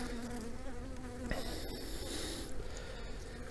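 Steady buzzing from a cluster of honeybees at a hive, a dense continuous hum with some higher whining tones, fairly close and without talk.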